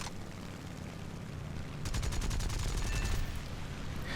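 Machine-gun fire from an A6M2 Zero fighter chasing an enemy plane in War Thunder, a rapid rattling burst of about a second and a half breaking out over a steady engine drone, then fading back to the drone.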